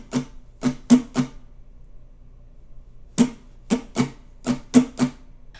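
Acoustic guitar strummed in a down-down-up pattern, crisp percussive strokes in two short bursts separated by a pause, close and dry.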